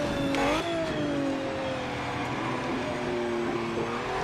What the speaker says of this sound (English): this is a race car, you can really use its full range of gears and grip.